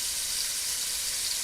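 Curry chicken ingredients sautéing in a pan over low-medium heat give a soft, steady sizzle and hiss that holds evenly throughout, with no voices.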